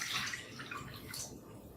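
Lukewarm water pouring into a bowl for challah dough, a steady splashing, hissing stream close by that lasts the whole moment without any talk over it.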